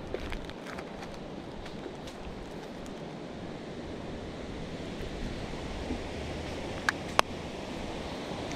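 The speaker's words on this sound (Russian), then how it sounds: "Альпийская река." Continuous broadband rushing of a flowing alpine river in the Lauterbrunnen valley, Switzerland, steady and moderately loud, with a faint breath of wind and a couple of small clicks near the end.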